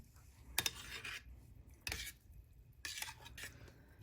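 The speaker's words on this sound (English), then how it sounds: "Let me give it a little stir." Melted candle wax and cocoa butter being stirred in a pot, a few quiet separate scraping clinks of a utensil against metal with near silence between.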